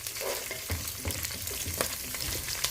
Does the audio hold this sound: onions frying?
yes